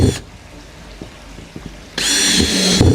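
A power drill bites into plastic panelling on a fry pond, with a short burst at the start, scattered handling clicks, then a loud sustained whirring run that stops near the end.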